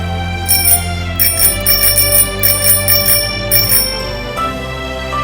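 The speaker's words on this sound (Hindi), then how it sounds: "अभी भी घंटी बज रही है।" A bell rings in quick repeated bursts over a steady electronic musical drone, a bright metallic ting-ting pattern recurring for several seconds before the backing tone drops away.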